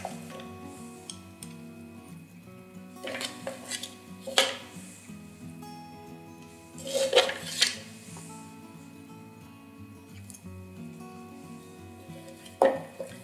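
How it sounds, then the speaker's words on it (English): Brownie batter made with black beans is spooned into reusable silicone muffin cases. Soft scrapes and a few sharp clinks of a spoon against a bowl come at intervals over quiet, close kitchen background. "Spoon the mixture into your muffin cases."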